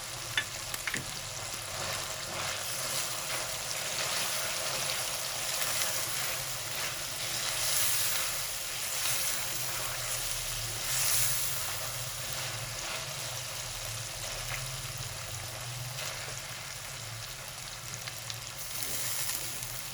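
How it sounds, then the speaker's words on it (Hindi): Minced chicken keema fries in a pan with a continuous close sizzle and hiss, steady throughout with faint stirring scrapes and no voices. "हमारा कीमा बहुत अच्छा फ्राई हो चुका है।"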